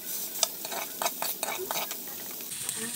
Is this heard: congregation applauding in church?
no